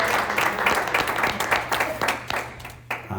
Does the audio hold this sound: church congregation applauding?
yes